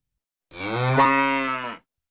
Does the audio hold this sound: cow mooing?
yes